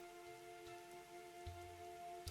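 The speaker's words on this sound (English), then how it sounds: "It's raining! It's raining!" Rain falling in the GudaGuda Yamatai video game, a soft steady patter of drops with a few heavier splashes, accompanied by sustained tonal game music, fairly quiet.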